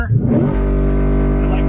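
A car engine held on the rev limiter with the brake on and both paddle shifters pulled before a launch. It climbs quickly, then drones loud and close at a steady high pitch.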